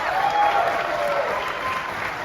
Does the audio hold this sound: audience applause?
yes